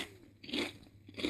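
Crisp, close crunching bites into a garlic-coated fried seaweed snack, a few brittle crunch bursts spaced across a short moment with no talking.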